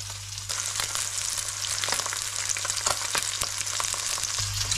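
A bream fillet sizzles skin-down in a hot pan, a steady close crackling fry with small bursts as it is pressed, moderately loud and without speech.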